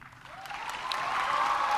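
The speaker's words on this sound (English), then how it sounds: "then we'll give them a round of applause" Graduation audience in McLoud, Oklahoma applauding a salutatorian, clapping swelling steadily over a couple of seconds into a dense, sustained roll from a large crowd.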